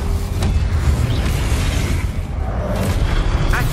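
A fiery Incendio spell blast in a Harry Potter video game at Hogwarts, a loud, dense booming roar with crackling bursts that sustains for several seconds, no voices.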